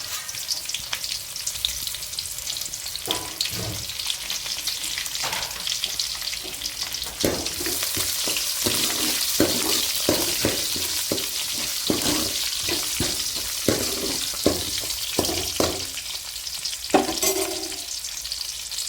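Onion, green chili and curry leaves fry in hot oil in a pan for mutton gravy, giving a steady bright sizzle with repeated scraping and clanking stirs throughout.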